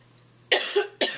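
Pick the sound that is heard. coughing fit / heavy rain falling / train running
coughing fit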